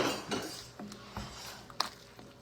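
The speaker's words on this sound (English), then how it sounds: "So I'm just going to give that a stir." Metal utensil scraping and clinking against a pot while cauliflower soup is stirred, a few light knocks and scrapes spread over a couple of seconds, fairly quiet and close, with no talk.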